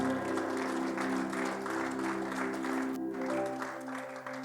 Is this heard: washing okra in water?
no